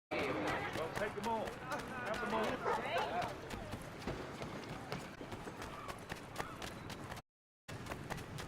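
Rhythmic horse hoofbeats in the video game Assassin's Creed III clip-clop at a steady trot, mixed with voices and busy background sounds, briefly cutting out near the end.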